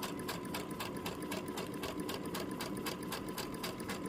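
A sewing machine stitches a seam on a slip dress with a continuous fast whir and steady needle clatter, close and even, running unbroken from start to finish with no voices.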